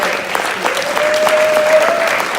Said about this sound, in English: So I would like to give you all a round of applause